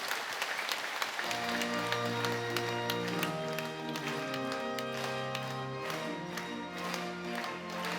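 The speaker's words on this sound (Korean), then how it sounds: "우리의 삶에 인도하신 하나님께 우리 영광의 박수를 올려드리겠습니다" Congregation clapping in a church during a Korean prayer meeting, steady applause lasting several seconds over sustained organ or keyboard chords and a singing voice.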